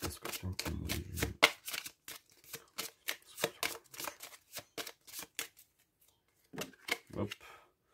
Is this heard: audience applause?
no